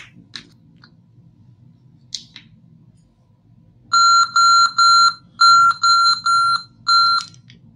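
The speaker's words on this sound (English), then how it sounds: "here is it showing a beep" A laptop beeps at power-on with no RAM installed, giving a series of six loud, evenly spaced electronic tones of about half a second each after a few soft clicks.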